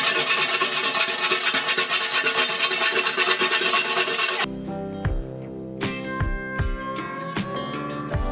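Steady, fast rasping scrubs for several seconds as a pumice stone is rubbed briskly back and forth, then stopping and giving way to quieter handling noises.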